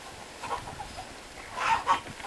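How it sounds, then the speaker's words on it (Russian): Chickens cluck and squawk softly at close range while being fed compound feed in a coop, a busy scatter of short calls with a louder burst near the end, no talk. "Марго, давай все-таки птичек кормить."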